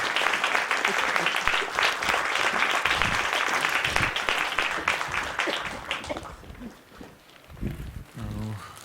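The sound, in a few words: concert audience applause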